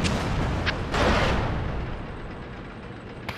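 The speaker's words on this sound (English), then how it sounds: "Oh shit, artillery." An artillery shell explodes in World of Tanks, a loud, close boom with a long, rumbling decay that fades out over a few seconds.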